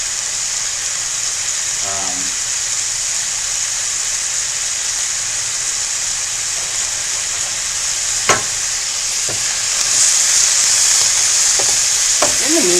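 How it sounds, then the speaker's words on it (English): Beef patties for loco moco sear in a frying pan, giving a loud, constant close-up sizzle that runs throughout, with a few faint clinks and knocks near the end. "Just gonna let those sear away."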